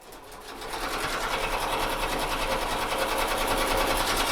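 Embroidery machine with a 65/9 needle stitching fine micro embroidery on a T-shirt at 650 stitches per minute, a steady rapid mechanical chatter that rises quickly and then holds loud and even throughout, with no talking.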